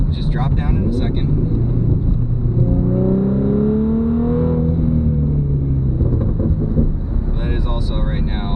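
A deep, throaty sports car exhaust with a muffler delete rumbles steadily, rising and falling in pitch as the engine revs up and settles back, loud and close.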